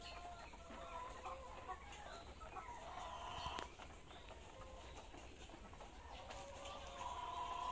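Faint clucking from chickens in a backyard coop, with occasional soft calls over low background noise.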